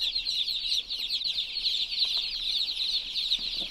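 Roosters and hens at a fly-tying feather farm cluck and chatter continuously from a corral or barn, a dense close flock with overlapping calls throughout.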